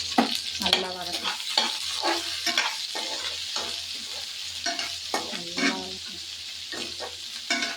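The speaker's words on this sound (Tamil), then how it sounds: "வெங்காயம் நல்லா போட்டு நல்லா வதக்கணும்." Plenty of onions sauté in a pan for a dry sambal under a soft sizzle, as a spoon scrapes through them in a steady series of loud, rhythmic strokes close by.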